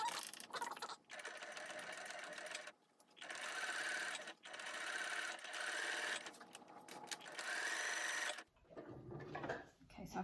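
A sewing machine runs in close, steady bursts while stitching a zip onto a cushion, pausing briefly between runs before stopping with the needle down, then a few soft handling sounds.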